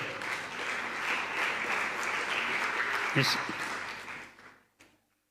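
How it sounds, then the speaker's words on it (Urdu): Adults applaud at a children's event with steady, dense clapping from a crowd that holds for several seconds, then tapers off and stops. "آپ کے لیے بڑے بھی تالیاں بجا رہے ہیں"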